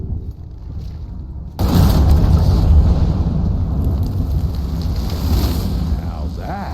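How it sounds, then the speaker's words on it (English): A sudden loud explosion bursts in after a quiet stretch in an Evil West video game cutscene, followed by a long rumbling, crackling roar that slowly fades, with voices speaking over it. "Now that is how you shape an explosion"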